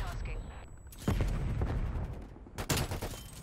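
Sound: gunfire in a video game

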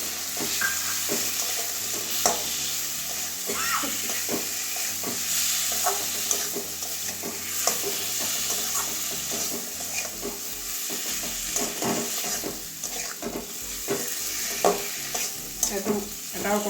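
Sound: tomatoes added to prawns frying in a pan

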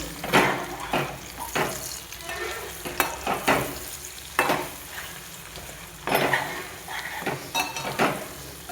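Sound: egg fry with onions sizzling in a pan

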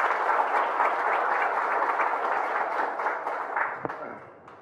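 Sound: audience applause welcoming a speaker

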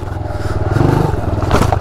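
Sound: motorcycle bottoming out going down stairs

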